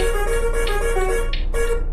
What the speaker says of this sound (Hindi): आज इसमें मैं हॉर्न बहुत ही ज्यादा प्यारा लगा के हूँ, ये देखो जरा